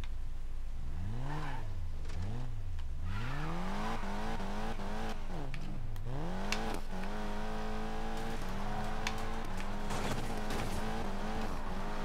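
A Honda NSX race car drives in the video game Need for Speed Payback, with its engine revving up and down through repeated gear shifts and then holding a steady high drone, loud and close throughout.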